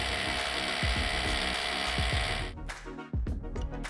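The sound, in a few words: ratchet tightening masonry bolts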